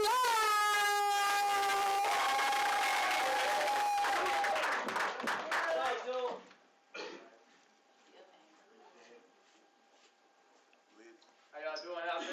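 An open mic night crowd claps and whoops loudly for several seconds, the applause thinning out as a voice begins talking over a quieter room.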